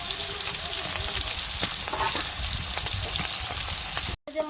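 Hilsa fish frying in a pan, a dense close sizzle with light popping and spatter that holds steady before cutting off abruptly near the end, with faint voices behind it.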